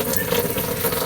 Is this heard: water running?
yes